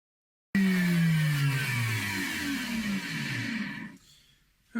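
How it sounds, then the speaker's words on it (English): A router fitted with a bevel bit cuts a bevel into the edge of a guitar control cavity: a loud, steady motor whine whose pitch slowly sinks, then cuts off near the end. "And now the bevel bit, which will, well, cut a bevel onto the edge."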